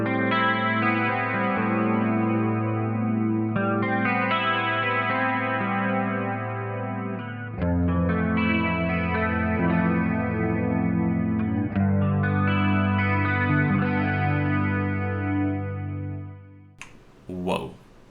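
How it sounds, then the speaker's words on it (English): Electric guitar through humbucker pickups, strummed chords ringing thick and sustained with effects-laden tone, changing chord shapes every few seconds, loud and close, ending with a brief pick scrape. "Now I'm gonna do a little humbucker sound."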